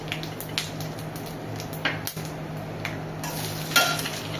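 Cinnamon, cardamom, salt, cumin and dried red chilies hit hot oil in a pan, giving a steady close sizzle broken by light stirring scrapes and small clinks.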